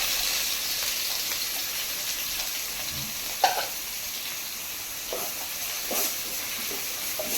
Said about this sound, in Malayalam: നമ്മൾ പാത്രം വെച്ചിട്ടുണ്ട്, അതിലേക്ക് ഓയിൽ ഒഴിച്ച് കൊടുത്തിട്ടുണ്ട്. നമുക്കതിലേക്ക് ഉള്ളി കൊടുക്കാം.